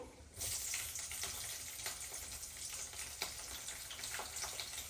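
Green chillies go into hot oil in a pan and set off a bright, steady sizzle after a quiet moment, crackling with small pops throughout and no voices.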